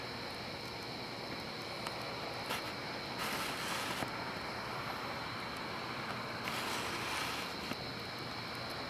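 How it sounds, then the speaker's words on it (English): Strong wind outdoors at night during a fire lantern release rushes and buffets the microphone as a constant broad roar, swelling into louder gusts twice, with no voices heard. "There's a strong wind out there."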